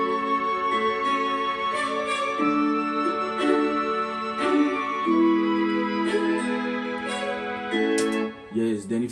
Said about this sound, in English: the guitar plus the chord progression sound like this